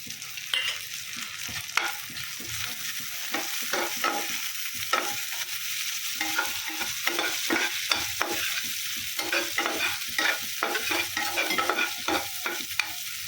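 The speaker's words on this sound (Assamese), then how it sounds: "এইখিনি অলপমান ভাজি ল'ম শেৱালি ফুলখিনি" Dried night jasmine flowers, soaked in khar, sizzle steadily as they fry in a pan, while a utensil stirs and scrapes in a quick, uneven rhythm.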